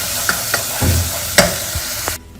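Ginger, garlic and green chilli paste sizzles in a frying pan, a steady crackling fry broken by a few sharp clinks and scrapes of stirring.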